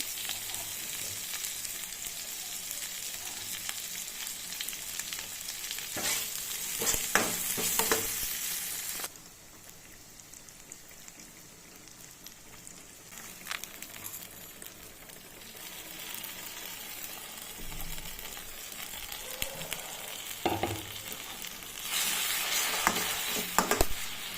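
Onion, ginger and garlic sizzle in hot oil in a pan while being stirred for a fish curry with green banana, a loud, steady frying hiss broken by scraping stirs that rise and fall throughout.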